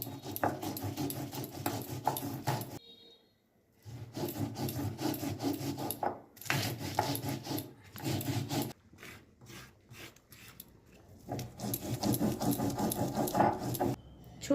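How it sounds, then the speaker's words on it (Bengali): Poppy seed, black mustard and chilli are ground to a fine paste with water, giving close, rhythmic rasping strokes in long bursts separated by short pauses, with no voices. "এবার আমি জল দিয়ে মশলাটা খুব মিহি করে বেটে নেব।"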